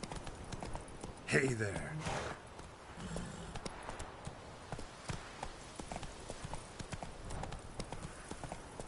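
Roach, a horse in Witcher 3, clip-clops along in a steady rhythm of hoofbeats, with a brief voice and game sounds over the top.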